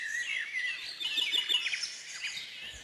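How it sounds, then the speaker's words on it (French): Small birds singing around a garden water point, with bright overlapping chirps and short trills close by, continuous over a quiet background. "les oiseaux chantent, picorent, puis d'un seul coup, tous les oiseaux s'envolent"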